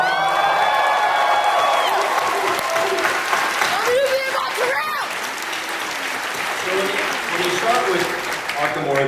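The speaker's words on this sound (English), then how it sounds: "Is there any chance we can get a cheer for those guys?" A large convention hall audience at a San Diego Comic-Con panel for Batman: Arkham Origins breaks into loud, sustained cheering, applause and whoops, with shouting voices mixed into the roar.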